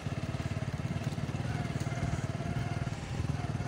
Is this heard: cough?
no